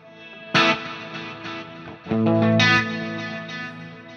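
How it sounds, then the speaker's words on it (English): Two distorted electric guitar strums through a Fractal FM3 ring out, each trailing into a lingering delay echo and reverberant wash that slowly fades. "Now you can hear the tails of the delay and reverb."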